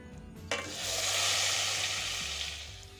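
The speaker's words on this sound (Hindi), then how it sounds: "अब मैं इसको तड़का लगा दूंगी।" Loud, steady sizzling as hot ghee tempering hits a pot of thick masoor dal, a sharp burst at the start settling into a continuous crackling hiss.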